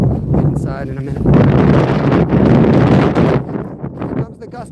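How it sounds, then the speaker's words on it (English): A sudden strong gust of wind buffets an outdoor microphone, a loud, steady roaring rush that swells and fades over a few seconds. "Here comes the gust out of nowhere, guys."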